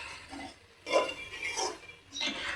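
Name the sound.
stirring carrot laddu mixture with ghee in pan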